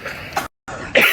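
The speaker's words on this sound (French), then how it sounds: "T'as vu, tout le monde tousse?" Two sharp coughs in a restaurant, one short and one louder, close by and separated by a brief silence.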